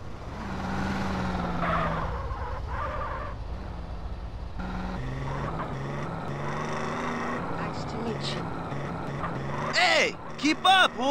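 Cars rumble along together on the way to a lowrider street race in GTA San Andreas, with a steady engine drone under talking voices and a few sharp noises near the end.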